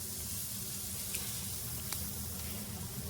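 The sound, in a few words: garlic bread toasting and being flipped in a pan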